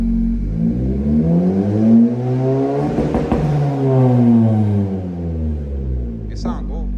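A 10th-generation car fitted with an Ark Performance exhaust revs hard at launch, its engine note rising and falling in a loud, swelling sweep with a raspy burble. A person speaks near the end.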